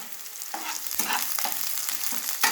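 Curry leaves, with garlic, crackle and sizzle in hot oil while a spoon stirs and scrapes the pan in a few close strokes for a potato dish.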